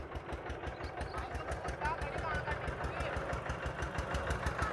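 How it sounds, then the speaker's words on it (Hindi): Old Eicher tractor, about fifteen years old, chugging steadily in a village while hauling an overloaded cart of sugarcane, a rhythmic mid-distance engine thump with faint voices nearby. "ये आइसर ट्रैक्टर,"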